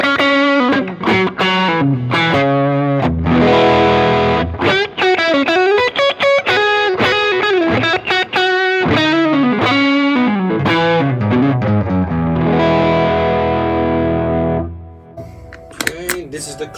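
An electric guitar played through a Vemuram Jan Ray overdrive pedal rings out in loud, continuous driven chords and single notes, holding steady for most of the passage before the tone trails off near the end.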